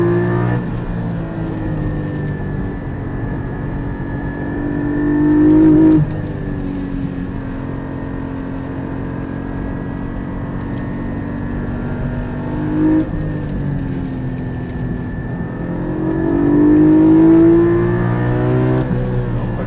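A Porsche 718 Spyder on the Charade race circuit holds a loud, sustained engine drone, with three rising rev surges through upshifts, heard from inside the car.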